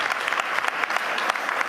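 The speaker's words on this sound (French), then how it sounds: "Ce n'était pas très enthousiaste comme applaudissement." An audience claps briefly, a moderate, unenthusiastic burst of mixed handclaps at a steady level.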